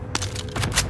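Automatic weapon fire in the video game Warzone, a quick burst of three or four sharp cracks within a second, close and punchy.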